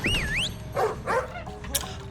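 A dog whimpers and yips in a TV drama scene, a few short high whines sliding up and down near the start, with musical score and other sounds around it.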